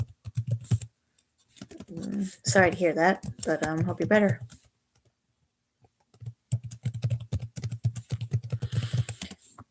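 Rapid clicking of a computer keyboard, in bursts before and after someone speaks, with a short quiet gap between.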